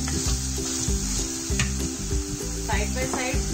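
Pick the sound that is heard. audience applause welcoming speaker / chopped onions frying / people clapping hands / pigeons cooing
chopped onions frying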